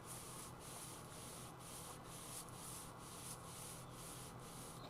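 A steel cable saws through cellular concrete, producing a continuous gritty rasping with regular back-and-forth strokes, steady and fairly close, with no voices.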